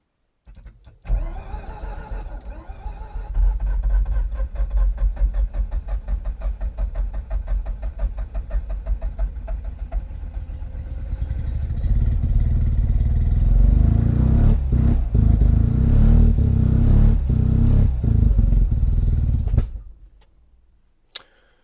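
A Mazda RX-5 rotary engine with good compression cranks repeatedly without firing, a rapid rhythmic starter churn that grows louder and heavier midway, with a few sharp clicks, before it cuts off.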